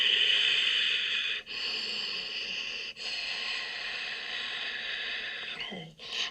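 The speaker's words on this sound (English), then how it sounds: "Big full breaths." Slow, deep breaths during a yoga stretch, close and soft, with airy inhales and exhales in long steady swells separated by short pauses.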